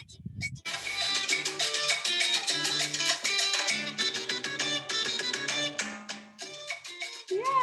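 Lively Latin band music with brassy, rhythmic layers playing continuously at a moderate level, with no voices.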